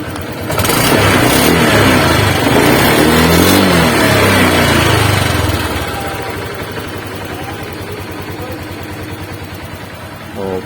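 Honda Click 125i V3 scooter engine revving up close, a loud sustained rev for several seconds that then drops back to a steady idle hum.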